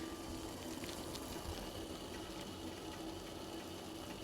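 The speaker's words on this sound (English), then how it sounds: "The sound of boiling water is kind of nice, though." Water boils in a pot on a stove, a soft, steady bubbling hiss that stays even and fairly quiet throughout, with no talking.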